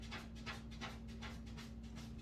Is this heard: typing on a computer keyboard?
no